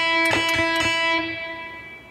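Three sharp guitar strums ring out in quick succession, then a sustained chord hangs with a slightly distorted, bright tone and slowly fades.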